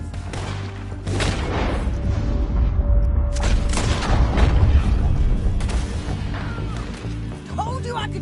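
Gunshots in Red Dead Redemption 2, several sharp booming shots fired in a burst amid a rocky shootout, loud and close over game ambience, with voices talking in the scene.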